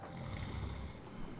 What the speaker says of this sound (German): Ich höre hier nur Rubens Schnarchen.